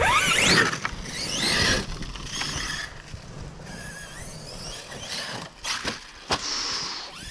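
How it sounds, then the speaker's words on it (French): High-pitched brake squeals from hard braking come in several sharp bursts, mixed with rushing wind noise and no speech. "Tu vois, j'ai freiné comme une brute."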